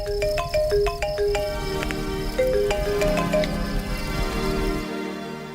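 Phone ringing with a bright repeating melodic ringtone, loud and close, its notes pulsing in a quick pattern over a low background hum for several seconds before cutting off.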